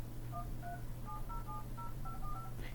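Telephone keypad DTMF tones dial a call-forwarding code and a phone number, a rapid run of about ten short, evenly spaced beeps over a steady low hum.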